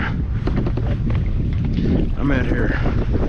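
Wind gusting across a lake around a small kayak, a steady low rumbling buffet of wind noise on the microphone that runs throughout, loud and close.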